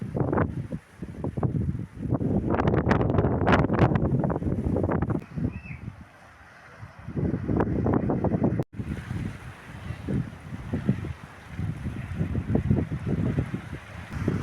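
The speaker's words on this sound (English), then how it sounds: "very windy today" Strong wind buffets the microphone in loud, rumbling gusts that rise and fall, with a brief lull midway before the roaring picks up again, in Corralejo.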